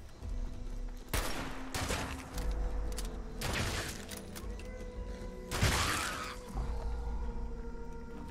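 Gunfire in Fallout 76 comes as several loud, spaced bursts of shots over a steady droning game background with mechanical creaks.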